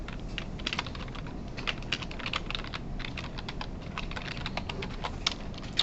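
Brisk, steady typing on a computer keyboard during a classroom lecture, with quiet, close key clicks in an irregular rhythm and no one speaking.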